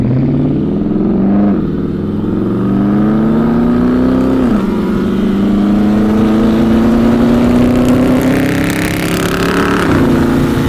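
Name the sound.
car engine revving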